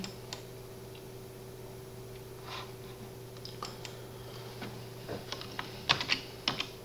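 Light, scattered keystrokes on a computer keyboard while filling in an online form, with soft, irregular clicks that grow a little busier toward the end over a steady low electrical hum.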